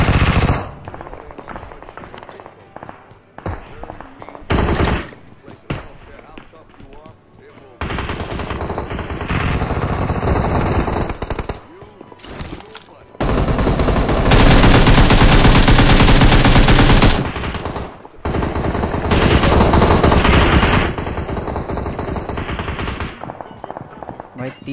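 Rapid automatic gunfire in a shooting video game, loud bursts and sustained sprays of shots coming in waves with brief pauses between them.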